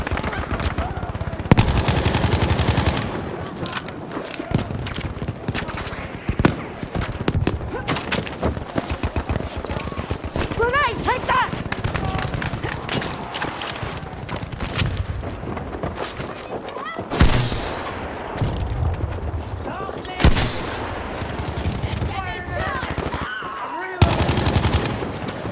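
Rapid bursts of gunfire from the video game Battlefield 5 multiplayer, repeated machine-gun volleys and single shots throughout, loud and close, with occasional shouted voices mixed in.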